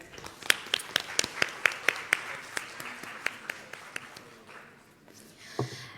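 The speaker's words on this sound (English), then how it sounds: "A round of applause for all the panelists, ladies and gentlemen." Sparse, distinct handclaps ring out in an audience at the ASEAN Future Forum 2026 as panelists are thanked, with a quick, fairly regular run of claps that thins out and fades near the end.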